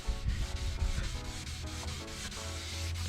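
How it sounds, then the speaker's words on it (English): Sandpaper rubs back and forth over a car headlight in steady, close scraping strokes with a gritty texture, continuous and without speech. "using my finger as a guide to make sure the sandpaper is not going to hit my bumper cover"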